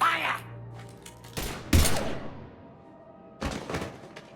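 Gunfire in the sci-fi shooter Mass Effect 3: a few heavy, booming bursts of shots with quieter game sound and voices between them.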